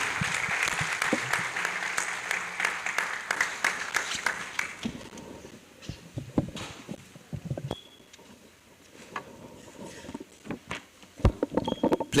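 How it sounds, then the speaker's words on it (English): A conference hall audience at a university in Abuja claps for the Vice Chancellor, starting as a full burst of dense applause, then thinning into scattered claps and room noise before a few sharper claps near the end. "Please, a louder round of applause for our Vice Chancellor."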